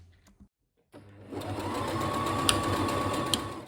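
A sewing machine stitches kimono fabric, starting up after a brief pause and then running in a steady, close, continuous whir with a faint rhythmic mechanical tick.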